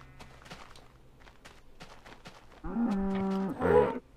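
A cow moos once in the Minecraft video game, a loud, steady low call lasting about a second, preceded by quiet footsteps and faint game ambience.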